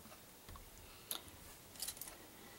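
Yarn snipped with scissors while making boot cuffs gives two faint, brief, close cuts in a quiet room, with no talking.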